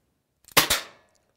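TSD Sport M1911 CO2 airsoft pistol firing: after a couple of faint mechanical clicks, two sharp, close cracking shots follow in quick succession, each with a short decaying tail, alone without talk.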